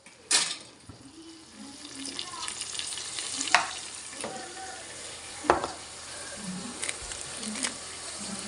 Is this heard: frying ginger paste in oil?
yes